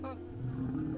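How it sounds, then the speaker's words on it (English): A lion's roar in the video game Animalia Survival, a single short low growling call heard over faint game ambience, with a brief voice at the very start. "I just hear the lions"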